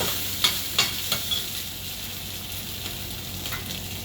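Food sautéing in a pan as it is stirred, a steady low sizzle with a few sharp scraping clicks near the start, heard alone at moderate volume.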